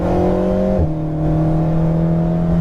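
An Alpine sports car pulls hard in fourth gear on a track, a loud close engine drone with a brief dip around a shift before the tone settles and climbs steadily.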